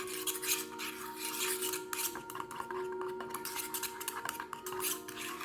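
Olive pit powder is mixed into a face scrub with a spoon, giving brisk, continuous scraping and gritty rubbing against a small bowl, close and steady with no talk.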